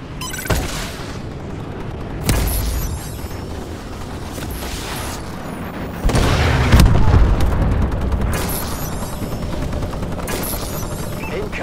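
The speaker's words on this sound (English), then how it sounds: "Friendly missile strikes incoming." Missile strikes rain down in a Call of Duty match, several heavy booming explosions arriving one after another amid continuous battlefield noise and gunfire.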